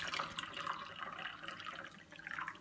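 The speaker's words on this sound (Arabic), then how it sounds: "راح احط كوب ماء" Water poured into a cup while preparing yeast dough for ma'rouk bread, a close, bright splashing trickle with small drips that runs steadily for a few seconds on its own.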